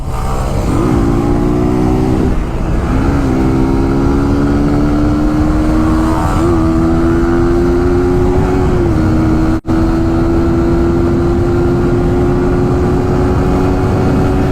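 A motorcycle ridden at speed gives a loud, close engine drone whose pitch climbs steadily as it accelerates, with wind rush and no talk over it.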